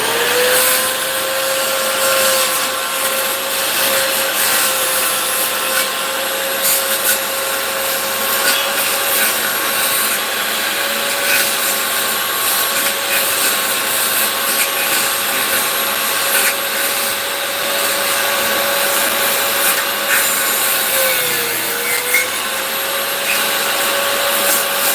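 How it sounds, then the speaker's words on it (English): A circular saw cutting a notch in wood runs at a steady high-pitched whine for a long stretch, with a brief dip in pitch near the end as it bites. "I'm gonna use a skill saw to make a notch."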